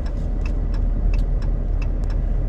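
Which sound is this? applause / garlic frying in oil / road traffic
road traffic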